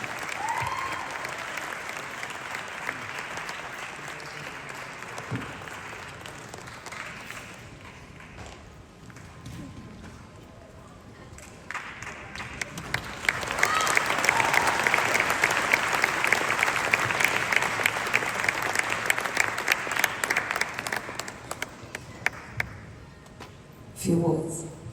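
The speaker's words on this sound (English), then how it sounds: "Make some noise, give me all your whistles, all your applause, all your cheering" Film festival crowd at IFFM 2025 in Melbourne claps, whistles and cheers as a Bollywood team walks on stage, applause building from moderate to a loud, dense peak midway before tapering.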